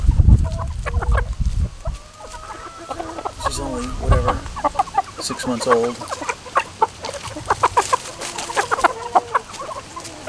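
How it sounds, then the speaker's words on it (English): A six-month-old Liege fighter hen pullet clucks repeatedly at close range, with other chickens calling around it, and someone talks intermittently over the birds. "it's a nice looking Liege fighter hen pullet"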